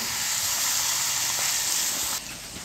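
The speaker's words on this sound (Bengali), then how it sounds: "এবারে দিয়ে আমি কিছুক্ষণ আরও কষাবো" Home-style chicken curry sizzles steadily in the pan as it is sautéed with salt, a loud, even hiss that drops off sharply near the end.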